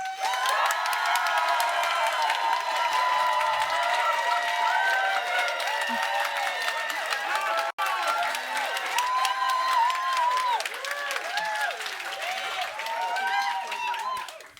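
An audience at a school climate debate claps, cheers and whoops to vote for the motion, a sustained loud roar of clapping and shouting voices that breaks off briefly midway and then resumes.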